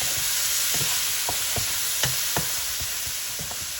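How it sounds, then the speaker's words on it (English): Curry chicken sautéing in a pan gives a steady sizzle under a run of spaced stirring scrapes and clacks, nearby and moderately loud, with no talking. "We'll saute that for a bit."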